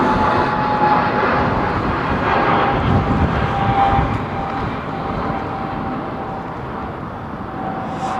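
Boeing 787 jet taking off at London Heathrow Airport, a loud sustained engine roar with broadband rumble and a faint steady whine, gradually easing slightly as it continues.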